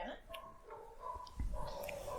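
A female dog whimpering and yipping indoors, a few short high whines and squeaks scattered through the moment, fairly faint, with a person talking alongside.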